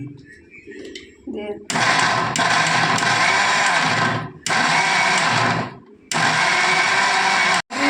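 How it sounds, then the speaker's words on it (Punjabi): A mixer grinder whirs loudly, blending green onion chutney in a home kitchen, running in sustained bursts of several seconds with brief pauses between them, after a short stretch of quiet background sound at the start. "ਮਿਕਸੀ ਸਟਾਰਟ ਕਰ ਲਈ ਹੁਣ ਬਣਾਉਗੀ ਚਟਨੀ"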